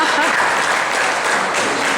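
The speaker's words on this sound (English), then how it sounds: "Please clap for the manager." Steady, dense applause from a crowd, clapping continuously at even loudness throughout with a faint murmur of voices mixed in.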